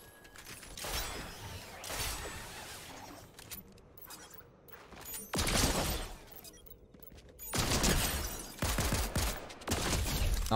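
Gunfire in a shooter video game comes in loud, dense bursts separated by quieter mechanical clatter and brief lulls, with no clear talk.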